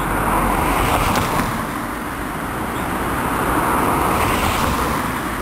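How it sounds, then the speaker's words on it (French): Cars drive past a deep, roughly 15 cm pothole on a city boulevard, producing a continuous broadband road roar that swells and eases as vehicles pass nearby, with no talking. "Observons le passage des voitures."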